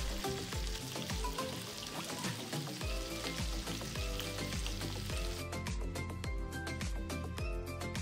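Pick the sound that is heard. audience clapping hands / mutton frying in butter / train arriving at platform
mutton frying in butter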